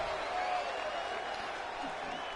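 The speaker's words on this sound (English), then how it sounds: "And Seth and Becky Lynch clapping that performance." Crowd applause and cheering fill a wrestling arena in the WWE 2K23 video game during an NXT Stand And Deliver match, a steady wash of clapping under a faint commentary voice.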